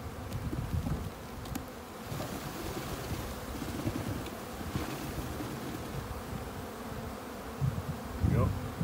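Honeybees buzz around an open hive as a nucleus colony is installed, a soft continuous drone with occasional louder passes of bees near the listener.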